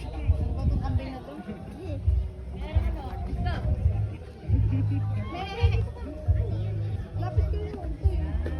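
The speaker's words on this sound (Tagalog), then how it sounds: "Batong kambing na to." A young goat bleats several times close by amid a family gathering, its short cries mixed in with ongoing talk and chatter from people nearby.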